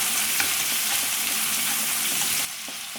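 Sliced onion and green chillies sautéing in a pan for chicken pulao, a steady bright sizzle with occasional stirring clicks, dropping slightly in level near the end.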